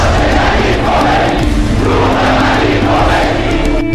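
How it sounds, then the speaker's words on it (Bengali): A huge revolutionary crowd roars in celebration of Ruhollah Khomeini's return to Iran after exile. The dense, continuous wall of cheering and shouting is loud and unbroken throughout, with no single voice standing out. "রুহুল্লাহ খোমেনি পা দিলেন মাতৃভূমিতে বিপ্লবী জনতার বিজয় উল্লাস"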